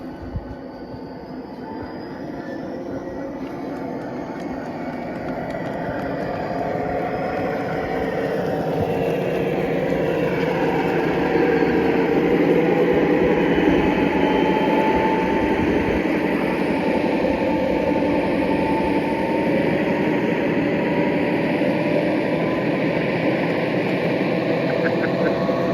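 G scale model train pushing a snow plow through snow and ice, its wheels spinning, a steady mechanical whir and rumble that grows slightly louder and holds, with a faint squeal over it.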